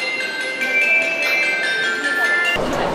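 Chiming alert on a Seoul subway platform warning of an approaching train, a clear sustained electronic melody over station ambience, ending in a burst of louder noise.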